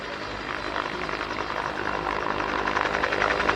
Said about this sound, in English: here we see a demonstration of the Whirlwind's search and rescue role